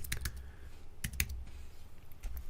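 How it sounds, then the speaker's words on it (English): Computer keyboard typing in short irregular bursts of close, crisp keystrokes, with brief pauses between clusters and no speech. "I can keep typing."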